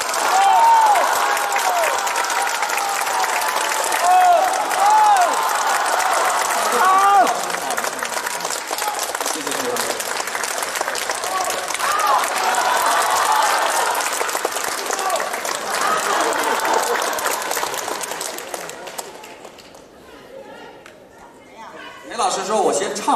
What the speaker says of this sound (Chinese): 让我们以最热烈的掌声，请出我们大家非常喜爱的著名京剧表演艺术家裴艳玲老师上场